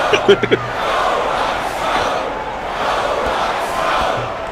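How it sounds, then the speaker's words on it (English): Simulated arena crowd at a UNLV basketball game against North Carolina in a sports video game, a sustained, swelling roar of cheering fans after a few brief thumps at the start. "this crowd trying to will UNLV to a bucket here"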